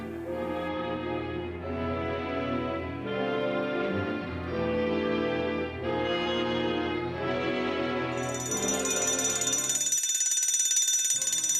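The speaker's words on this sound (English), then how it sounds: "The alarm was sounded" A loud electronic alarm sounds for a bank robbery, a steady pulsing ring in repeated bursts that jumps to a higher, sustained shrill tone near the end.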